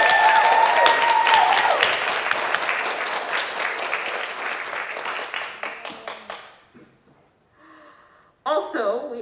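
An audience at a senior open mic night claps loudly for performers, a dense burst of applause that thins out and fades to scattered claps, followed by brief voices near the end.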